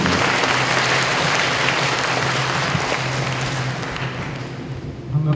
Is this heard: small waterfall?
no